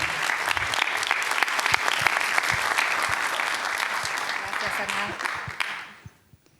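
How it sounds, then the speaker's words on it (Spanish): An auditorium audience claps steadily for several seconds, then the applause fades out to near silence. "Vamos a recibir con un fuerte aplauso a Nancy Garnica"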